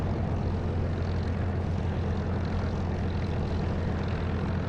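A propeller aircraft engine in the DCS flight simulator drones steadily at high power during the takeoff roll, loud and close from start to finish with no talk.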